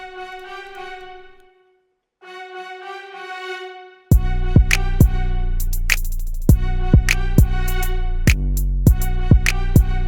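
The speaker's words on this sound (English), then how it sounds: "It's a bunch of trumpets" Sustained trumpet chords swell in two phrases, then a full BBC symphony orchestra passage with heavy low end and sharp rhythmic hits takes over, loud and layered.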